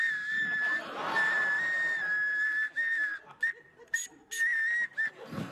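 A person imitates an ocarina by whistling, producing a clear, sustained melodic tone that breaks into short, choppy phrases toward the end.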